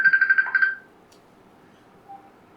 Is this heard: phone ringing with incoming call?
yes